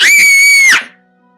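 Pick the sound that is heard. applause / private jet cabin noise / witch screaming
witch screaming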